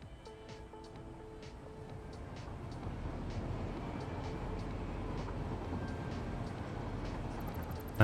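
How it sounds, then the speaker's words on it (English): A train rumbles in steadily and grows louder as it arrives in the factory-building game Satisfactory, with a low continuous roll and faint clanks over it. "Here comes the train."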